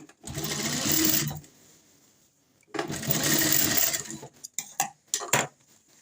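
Sewing machine stitching a round seam on a palazzo pant, two long steady runs of close rapid whirring separated by a pause, then several short bursts as the stitching is finished off.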